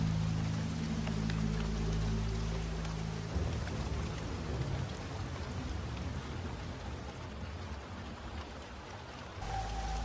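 Steady rain falls in a dense, even hiss, with a low rumbling tone fading out early and no voices.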